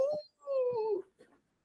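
A twelve-week-old goldendoodle puppy gives high, drawn-out whimpering whines in short repeated bursts, close and fairly loud, with no clear talk over it.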